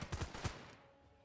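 Machine gun fire from a tower in the Northend Tower Defense video game, a short burst of several rapid bursty shots up front that cut off into quiet.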